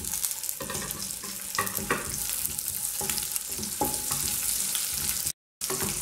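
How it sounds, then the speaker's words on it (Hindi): Chopped chironji, almonds, raisins and cashews frying in a pan give a steady close sizzle, broken by frequent scraping, stirring strokes and a brief dropout near the end, with no voices. "चिरौंजी और बादाम कटे हुए और किशमिश और काजू इन्हें इसमें डाल देंगे और मिक्स कर देंगे।"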